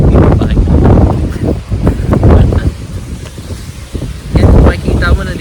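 Strong, gusting wind buffets the microphone on a foggy mountaintop in Infanta, Quezon, loud rumbling surges rising and falling, with a voice talking over it.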